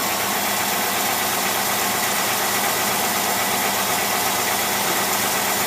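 A car engine fitted with a Rochester single-barrel carburetor idles steadily at close range, a continuous even rumble with a faint rhythmic knock and no pauses or revving.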